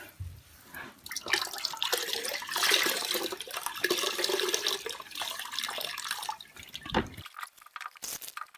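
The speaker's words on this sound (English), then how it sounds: "Use a big sponge, and it's gonna soak up all the water in there" Water being soaked up with a large sponge while cleaning out a lint-filled basin, giving steady wet sloshing, squeezing and dripping sounds close by that run continuously, then a few sharper splashes near the end.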